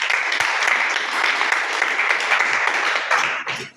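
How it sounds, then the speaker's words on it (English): Applause from an audience at a chess academy training workshop, a steady dense patter of many hands clapping nearby for several seconds before tapering off at the end. "Okay, let's give a round of applause."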